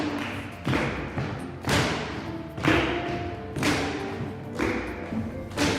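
Djembe drums pound out a steady beat, the heavy booming hits landing roughly once per second across the passage, loud and close, with a ringing wash after each stroke and no voices.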